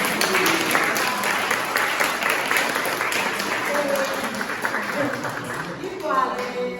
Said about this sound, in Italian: per questo chiedo un applauso.